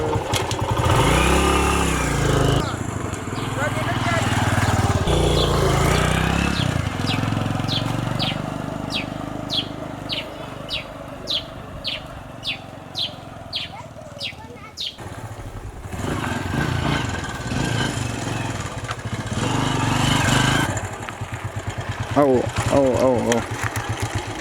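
A motorcycle taxi engine rumbles and idles nearby, with a low throb that shifts in pitch. People talk over it throughout, and birds chirp in the background.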